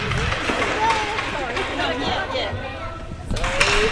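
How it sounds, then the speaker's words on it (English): Crowd hubbub in the stands at the VDL Grand Final, Red Barons against Ice Breakers, with steady babble and scattered voices as spectators look for seats, and people talking close by. "We've just got some crowd members trying to find a seat here"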